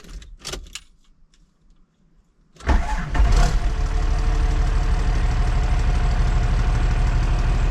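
A Cummins-swapped Toyota Land Cruiser diesel cranks and catches after a short quiet stretch, then settles into a loud, steady idle close by, with faint clicks and shuffling before the start.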